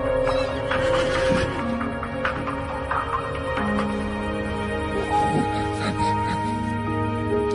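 Horses neigh and whinny in a cartoon stable scene, several drawn-out calls over a busy background of music and other sounds, fairly loud.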